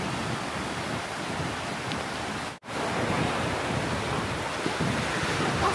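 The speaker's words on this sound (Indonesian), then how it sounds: "Oh, anginnya kenceng banget ya." Strong wind buffets the microphone at a beach resort in Kalianda, Lampung, with steady broadband surf and wind roar, loud and continuous apart from one brief dropout midway.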